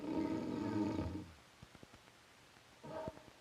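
Loud, rumbling snores from a sleeping figure in an old fairy tale film, one long drawn-out snore followed by quiet ticks and a second, shorter snore.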